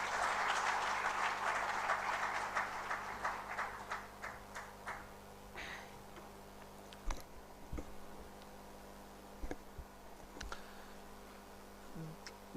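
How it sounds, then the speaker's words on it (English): Audience applause at a live HR conference in a hall, dense and loud at first, then thinning into scattered individual claps that trail off. "I think we can have a round of applause."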